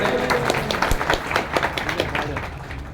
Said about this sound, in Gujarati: તાળી પાડીને જવાબ આલો